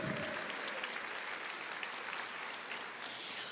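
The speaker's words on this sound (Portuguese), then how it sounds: "Aplauda ao Senhor" A church congregation applauds during a sermon, steady dense clapping heard somewhat distant and fairly quiet throughout.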